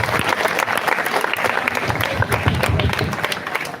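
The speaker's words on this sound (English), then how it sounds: "Give yourself a round of applause." An audience at a speech competition applauds after a speech, a brisk, dense crowd of hands clapping nearby with sharp individual claps standing out throughout.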